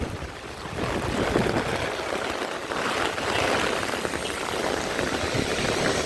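Heavy monsoon rain in a Konkan village beside a widened river, a dense continuous wash of downpour hiss, steady and fairly loud throughout with no voices.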